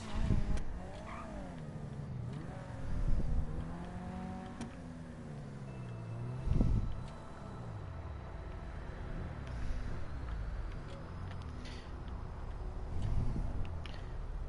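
Car in a video game pulling into a parking lot, its engine faint and rising and falling in pitch through several revs and gear changes over about fifteen seconds.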